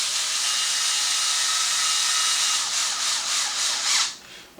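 Power driver with a 2 mm hex bit runs a screw home on the front A-arm of a Traxxas Maxx RC truck. A steady, close, hissing whir lasts about four seconds, then pulses briefly and cuts off.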